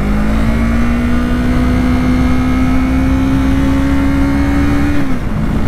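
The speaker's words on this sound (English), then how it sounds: "This bike is just super rev happy. It just really likes to be at high RPM." Motorcycle engine held at high revs, a steady loud drone climbing gradually in pitch for about five seconds, then dropping sharply as the throttle closes or a gear shifts, with no talking.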